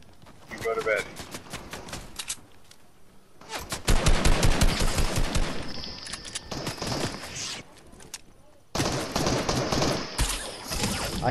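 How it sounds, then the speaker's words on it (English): Video game gunfire crackles in several rapid automatic bursts, loud and close, separated by quieter gaps with occasional footsteps, while players talk over the action. "I hear shooting."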